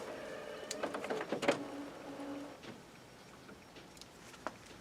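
An HP inkjet printer fitted with a continuous ink supply system for HP 962 cartridges moves its carriage back to the home position: a whirring motor with a few mechanical clicks and clunks, then near silence with a faint later tick.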